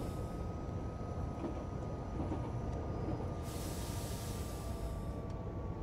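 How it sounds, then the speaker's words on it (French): A TER regional train on the Calais–Boulogne line in Train Simulator brakes toward a station, with a loud, steady rumble and hiss of wheels and brakes that continues throughout. "on va commencer à freiner pour l'arrivée en gare dans 300 mètres"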